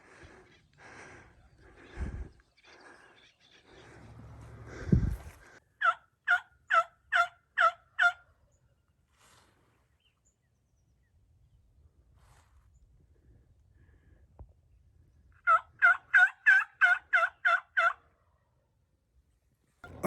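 A wild turkey gobbles in late-season woods, two separate bursts of rapid, rattling gobbles heard clearly at moderate distance, with a few nearby rustles and thumps at the start.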